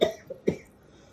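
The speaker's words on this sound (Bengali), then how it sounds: "কাশি এবারে" A child gives a short cough, a sharp burst followed by a smaller second cough moments later, close and alone in a quiet room.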